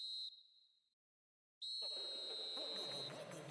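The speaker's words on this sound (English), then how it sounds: "Added time is up, and there goes the whistle." A referee's final whistle in an eFootball video game match sounds as a shrill steady tone, cuts briefly to silence, then blows again long and loud over rising crowd noise.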